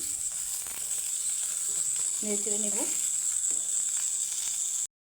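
Tomatoes fry without oil in a pan with a continuous close sizzle. A person briefly speaks over it, and the sound cuts off abruptly just before the end.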